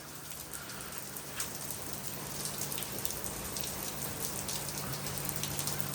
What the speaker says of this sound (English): it just starts pouring rain.